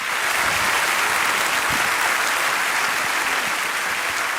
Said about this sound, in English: Give them a round of applause for putting up with me for a half an hour